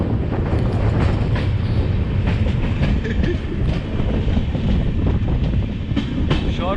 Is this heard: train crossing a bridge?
yes